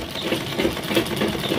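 A sewing machine runs steadily, stitching two layers of salwar fabric laid diagonally one over the other, a close, continuous mechanical whir with faint rhythmic pulses and no voices.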